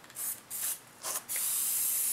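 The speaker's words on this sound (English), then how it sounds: "Bit of spray adhesive." Several short hissing bursts of a spray adhesive can outdoors in the cold, three brief sprays followed by a longer sustained one, close and fairly loud.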